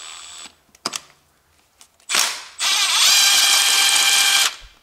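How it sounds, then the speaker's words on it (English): An electric driver fitted with a magnetic socket spins out a spark plug on a Volvo engine, with a couple of sharp clicks before a short whirring burst, then a longer steady high motor whine close up that cuts off. "And now I use this my electric driver"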